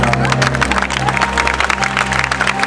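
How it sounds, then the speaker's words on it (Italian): Applause from a comedy show audience, dense continuous clapping mixed with crowd noise, steady and fairly loud throughout, with a voice audible over it. "Partite un applauso dalla Jumfonte"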